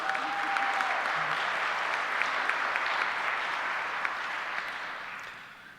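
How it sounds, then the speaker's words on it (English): Audience applause at a diocesan meeting, thanking St. Mary's Ramona: a dense, even roll of clapping that holds steady, then tapers off toward the end. "please give them a round of applause as well"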